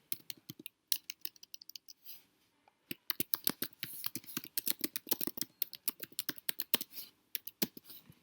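Fast, uneven clicking of computer keyboard keys as a reply message is typed, close and fairly quiet, in bursts with brief pauses between runs of keystrokes.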